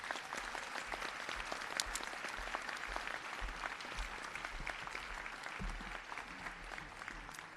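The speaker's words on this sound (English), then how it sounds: "Let's give everyone a big round of applause." An audience at a graduate school hooding ceremony claps in a long, even burst of applause that stays steady and fairly distant throughout, with no speech over it.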